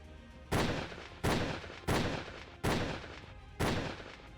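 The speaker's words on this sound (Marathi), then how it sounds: "एक, दोन, तीन नव्हे तब्बल 5 राऊंड फायर" Five sharp gunshots fired at a candidate's office in Ambernath ring out one after another at uneven intervals, each loud crack trailing into a brief echoing decay, with no voices.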